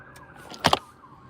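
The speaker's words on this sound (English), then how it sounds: "there's an ambulance going down the street" A siren from an ambulance travelling down a nearby street, heard faintly as a high wailing tone with a brief louder burst in the middle, no talking over it.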